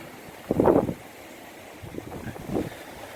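Gusts of wind from a rare storm buffet the microphone in low rumbling bursts, one strong gust early and weaker ones later, over a steady windy hiss.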